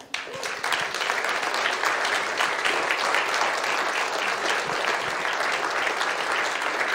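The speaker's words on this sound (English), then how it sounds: "Give him a hand of applause." A room full of people applauds young people standing up at a church gathering. The clapping swells quickly and then holds loud and dense without a break.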